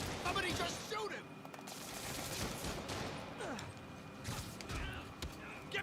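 Gunfire in the video game Marvel's Spider-Man Remastered, bursts of automatic shots and a fusillade amid in-game combat noise, steady and dense, with voices talking throughout.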